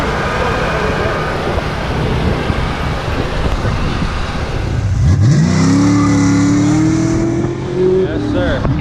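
Muscle car engine revving loudly from inside the car during a ride, a rising, sustained roar building after a stretch of road and wind noise, with people talking over it.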